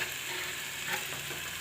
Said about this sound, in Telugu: కలిపేసుకుని కోడిగుడ్లు వేస్తాను